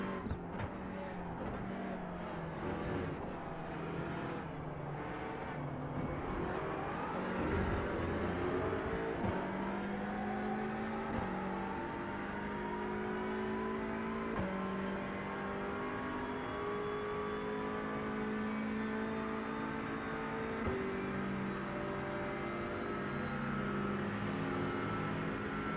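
Banger cars racing in the Grid Rivals video game, engines droning and revving steadily for the whole stretch, with shifting pitch as they accelerate and brake, loud and close with no talk.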